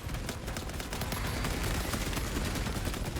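A heavy bolter fires in Space Marine 2, a rapid, dense burst of gunfire sustained for a few seconds, loud and close, with no voices.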